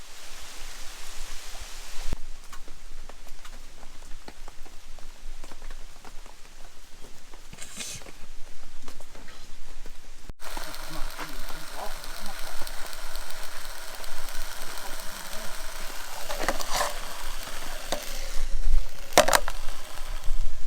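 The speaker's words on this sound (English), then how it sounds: "We have taken refuge under this Easy Up canopy from the rain, which is still ongoing" Steady rain pattering on a fabric pop-up canopy overhead at a creekside woodland campsite, a continuous hiss with occasional louder drips, while people talk nearby.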